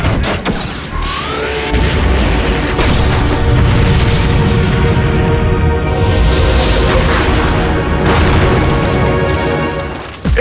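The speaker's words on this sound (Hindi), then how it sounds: "कैनन में विस्फोट हुआ है।" A cannon explodes in an animated cartoon car race, bursting into a loud, sustained booming blast with crashing debris that rumbles on for several seconds before a final sharp hit.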